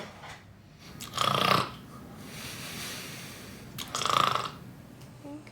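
A person imitates loud snoring, two rasping snorts on the inhale separated by a quieter, breathy pause.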